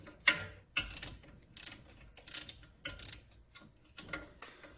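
A ratchet wrench turns small bolts on a rear wheel hub of a Grand Caravan–type minivan, giving quick bursts of metallic clicking repeated in a steady rhythm, close and fairly quiet.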